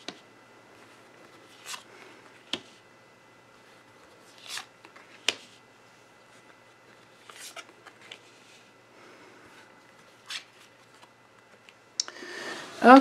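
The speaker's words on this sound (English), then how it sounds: "So this deck has been shuffled for Donald John Trump." Tarot card deck handled and shuffled in a quiet room, scattered soft riffles and taps spaced a few seconds apart, ending in a louder close flurry of card shuffling.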